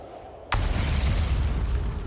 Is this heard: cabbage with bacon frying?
no